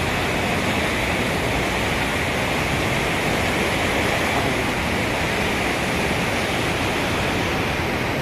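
River water rushes through the Taunsa Barrage headworks in a dense, unbroken roar, loud and steady like a waterfall, with no voices over it.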